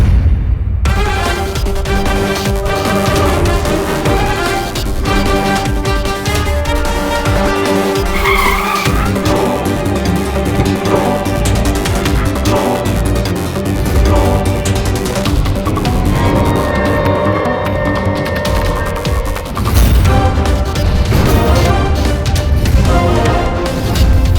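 A car skids with long squealing tires and a grinding roar before crashing into a tree, the harsh sliding noise loud and continuous throughout with shifting pitch and no talking.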